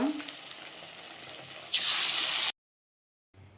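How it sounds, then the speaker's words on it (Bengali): Battered ash gourd leaf fritters fry in hot oil with a soft crackle that swells into a loud, bright hiss, then cuts off abruptly into silence before faint sizzling resumes. "এরকম করে সবগুলো বড়া আমি ভেজে নিব।"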